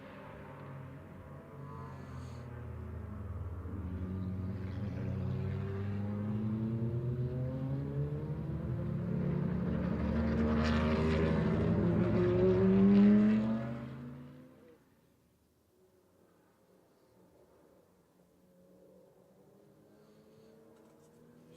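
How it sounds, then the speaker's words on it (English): DRM revival racing cars roar past at the Red Bull Ring circuit behind a safety car in a long, building wave of engine noise with rising and falling pitch, peaking then fading quickly to near silence. "Gives us a chance to listen to the cars though."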